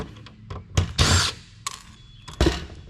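Screws are being removed from a telecom power board, heard as several short bursts of power-tool whirring and ratcheting with clicks and clatter between them.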